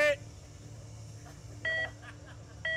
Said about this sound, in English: The start here is a 3-beep start.